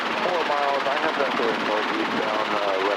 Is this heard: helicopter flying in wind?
yes